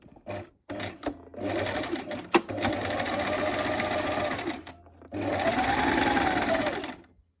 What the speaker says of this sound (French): coudre à partir de l'autre repère et renforcer la couture